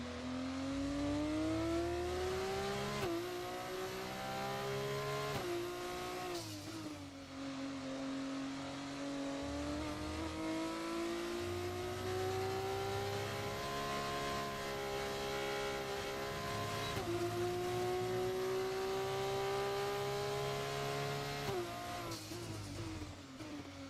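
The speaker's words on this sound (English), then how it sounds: "Yeah, the F2 cars do sound sick, don't they?" An F2 race car engine in the video game F1 24, a loud, continuous high-revving whine that climbs in pitch and drops sharply at each gear change, repeating through several shifts with no voices.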